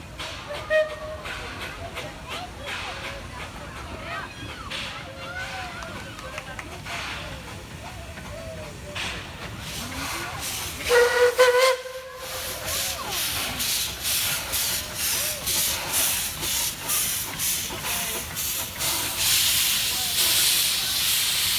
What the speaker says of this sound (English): Puffing Billy's Thomas and 6A dressed as Percy pulling into Gembrook